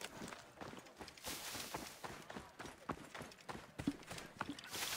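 A horse's hooves clip-clop across the ground in the video game Assassin's Creed Origins, a quiet but quick, uneven run of hoof strikes with no talking.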